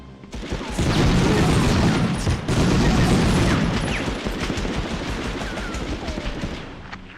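Heavy automatic gunfire and booming blasts from the video game Medal of Honor (1999), a loud sustained barrage with a brief break near the middle, easing somewhat toward the end.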